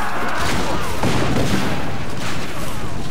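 Cannon fire in the video game Assassin's Creed Revelations, a loud dense barrage of booming blasts that rumble and overlap continuously throughout.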